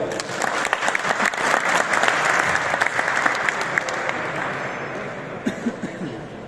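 Audience applause at an outdoor World Mountain Day celebration, a dense steady clapping from a large crowd that carries on for several seconds before thinning out toward the end.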